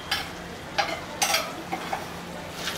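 A spoon stirs spine gourd with grated fresh coconut in a pan, giving a few soft scrapes and light sizzle bursts, close and quiet with no talk.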